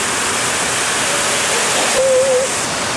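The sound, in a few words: outdoor shower feature at convention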